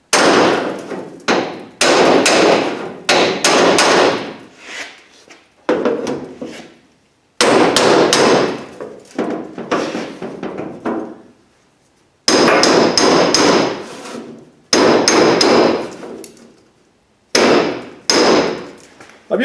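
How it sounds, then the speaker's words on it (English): Hammer blows driving a chisel laid flat along its long edge against chrome trim on a rotten junkyard Cadillac trunk lid: sharp, loud metallic strikes in quick bursts with short pauses, close and alone. "I'm using the long edge of this chisel just so I don't put dings in it."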